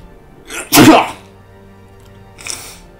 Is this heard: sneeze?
yes